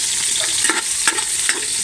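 Ginger and onion sautéing in a pan while being stirred for carabao bulalo, a steady sizzle with a few sharp scrapes of the spatula, close and fairly loud, no talking.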